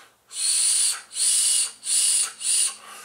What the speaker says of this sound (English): It's got some whistle though. Listen.